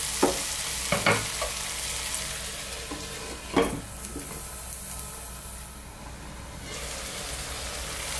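Chickpea stew for shimbra fit fit frying in a pan gives a steady soft sizzle, with a few sharp stirring scrapes and clinks, and no talk.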